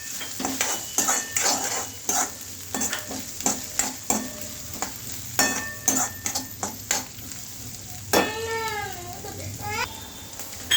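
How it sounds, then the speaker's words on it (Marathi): Green peas fry in hot oil in a pan while a spoon stirs and scrapes in quick bursts, a steady sizzle underneath, during the making of Indori poha; a brief high voice-like chirp sounds near the end. "मटार पण जरा तेलामध्ये भाजून घेणार आहे।"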